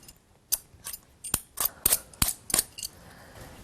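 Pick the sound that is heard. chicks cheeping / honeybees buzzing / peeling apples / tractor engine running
peeling apples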